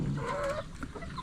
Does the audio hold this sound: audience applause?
no